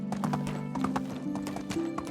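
In the Medieval Dynasty video game, hooves clip-clop steadily at a walking pace, a horse whinnies over a sustained low tone, all fairly close and clear.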